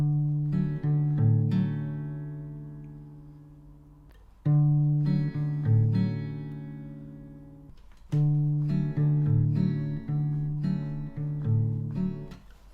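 Guitar fingerpicking of a song from The Backyardigans: bright plucked notes with a thumb bass line, played in three repeating phrases separated by brief pauses, close and clear with no talking.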